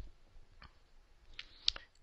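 Computer mouse clicking on software buttons, a few faint, sharp separate clicks spread across two seconds in a quiet room, one slightly louder than the rest.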